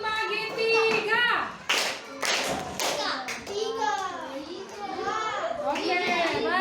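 Schoolchildren in a classroom clap out a counting game led by their teacher, sharp bursts of hand claps mixed with lively, overlapping children's voices and calls throughout.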